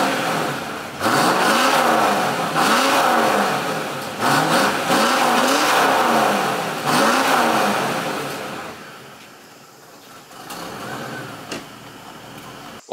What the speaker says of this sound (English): I'll start this thing up, give it a rev, and I'll go drive it behind the house